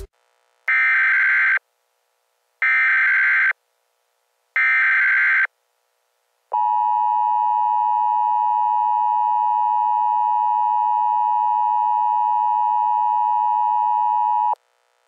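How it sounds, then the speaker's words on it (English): Emergency Alert System tones made in Vegas Pro 15: three loud, evenly spaced electronic buzzer bursts, then one long steady beep lasting about eight seconds, clean and alone against silence. "So I made an EAS alert in Vegas Pro 15 before."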